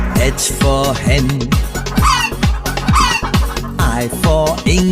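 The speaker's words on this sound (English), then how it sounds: "H for hen" A hen clucks and a rooster crows over a steady, upbeat children's song, the bird calls mixed in with the music.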